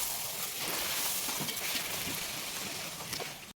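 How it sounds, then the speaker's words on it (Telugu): Puris frying one by one in hot oil in a pan, giving a steady, close, dense sizzle that holds evenly throughout with no talking. "ఇప్పుడు మనం ఒక్కొక్క పూరిని ఆయిల్లో వేసుకుంటూ కాల్చుకుందాం."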